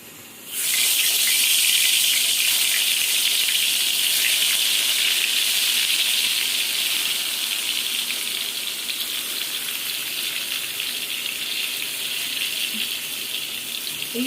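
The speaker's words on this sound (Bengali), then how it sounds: "এখন ভাজা শুরু করে দেব।" Bitter gourd coated with turmeric, chili powder and salt hits a hot pan and bursts into a loud, steady sizzle after a brief quiet start, hissing continuously and easing only slightly as the frying carries on.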